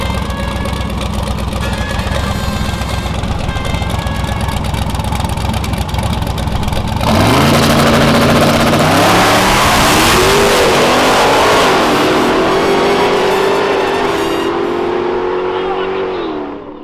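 A race car in a drag-style final against a Dodge Charger idles loudly and then launches hard. The engine note climbs through several rising gear sweeps and stays loud and close to the end.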